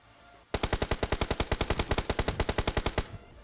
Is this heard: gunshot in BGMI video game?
yes